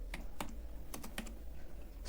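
Fingers type on a computer keyboard in quick, light clicks, with a few short bursts of keystrokes close by in a quiet room.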